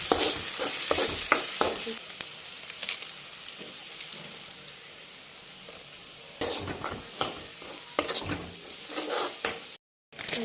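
Maggi noodles with chilli, coriander and turmeric fry and sizzle in a pan while a utensil stirs and scrapes in irregular bursts, with a steady hiss underneath and a brief dropout near the end.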